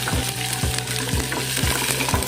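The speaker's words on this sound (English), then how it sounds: "First, fry the garlic and also the onion." Garlic and onion sizzle steadily in a hot pan as they fry, with a spatula stirring and scraping in regular strokes about every half second, close and moderately loud with no talk.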